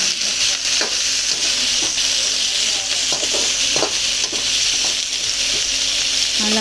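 Curry leaves frying in hot oil while snacks are prepared, giving a steady, close, dense sizzle with crackling pops and occasional stirring clinks throughout.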